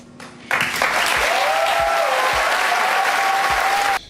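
A crowd at a political speech on the economy bursts into loud, even applause that holds steady for about three and a half seconds and then cuts off abruptly.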